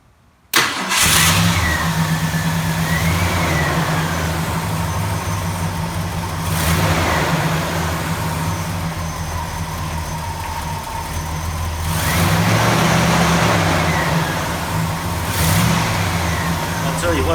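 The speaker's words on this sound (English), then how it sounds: "I guess now would be the time to start it up and see how it runs." A 1970 Ford LTD's engine cranks and catches near the start, then settles into a steady, loud idle with rhythmic low rumble, rising in a couple of surges where it is revved, close to the microphone.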